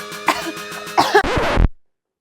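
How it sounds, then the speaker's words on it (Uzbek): A few short coughs and throat-clearing sounds come right after brief speech, close and moderately loud, before the clip falls silent. "Hali sal yo'talim bor."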